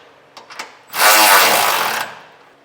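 A loud power tool whirs for about a second as it tightens bolts on a Curt custom fifth wheel bracket for a 2021 Ram pickup, after a few light metallic clicks.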